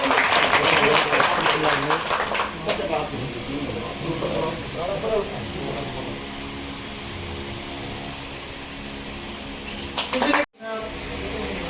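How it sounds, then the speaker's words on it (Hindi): A crowd at an outdoor political rally applauds briefly at the start, then the clapping fades under amplified talk and a noisy outdoor hum. "श्रीमान मिश्रा जी साहब आपका स्वागत करेंगे और जोरदार तालियों से"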